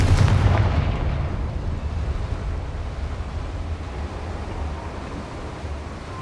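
The Confringo fire spell exploding in Hogwarts Legacy, a heavy boom that rolls out into a long fading rumble.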